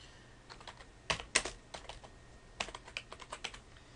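Keystrokes on a computer keyboard as a password is entered to log in, a quiet scattered run of clicks with a few sharper taps, close and alone in a hushed room.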